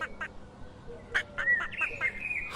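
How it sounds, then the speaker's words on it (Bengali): Several ducks quacking at moderate distance, a rapid run of nasal calls overlapping one another. "আমার হাঁসগুলা তো চেঁচামেচি করছে কেন"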